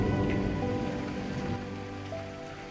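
Rain falls steadily on a surface, a dense close patter with scattered drops, slightly louder at first and then easing to an even wash, with no voices.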